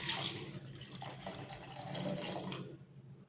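Tamarind water is poured into a pot of rasam, a steady watery splash and trickle running for about three seconds before trailing off, close and fairly soft with no talking.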